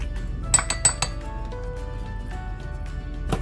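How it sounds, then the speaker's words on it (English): Spoon and bowl clinks while sour cream is scooped from a bowl: a few sharp, close metallic taps in the first second, then quieter faint scraping and clinks. "I'm gonna scoop up some sour cream."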